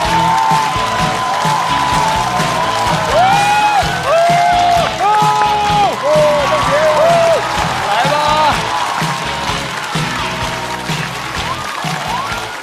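Audience applause and cheering fill a stand-up comedy show as comedian Li Mengjie is called to the stage, a steady crowd roar with tonal voices or music woven through it.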